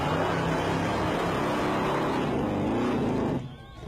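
Supercharged alcohol-burning 8.2-litre Chevy V8 of about 700 horsepower doing a burnout, a loud sustained engine roar that holds steady for over three seconds and then drops away abruptly.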